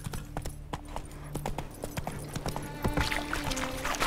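Horse hooves clip-clopping at a steady rhythm while riding in a video game, fairly faint, with ambient game sounds around them.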